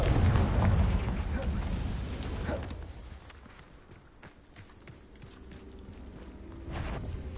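A Confringo fire-blast spell explodes in the video game Hogwarts Legacy: a loud, booming burst with heavy rumble for the first few seconds, then a fading tail and a second smaller blast near the end.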